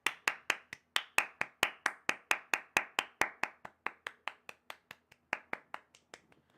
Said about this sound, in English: Round of applause for Jelly Eye.